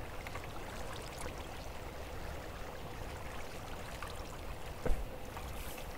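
Water flowing down from a source block in Minecraft, built as part of a redstone project: a steady, soft rushing wash holds even throughout, with one brief click near the end.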